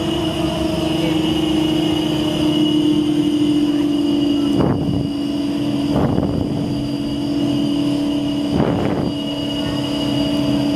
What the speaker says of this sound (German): Leider kann man aufgrund des lauten Motorgeräusches die Ansagen sehr schlecht verstehen